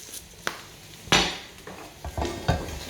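Seasoned salt and chilli pepper chips are tossed in a wok with a utensil, giving several close metallic scrapes and clanks in an uneven rhythm.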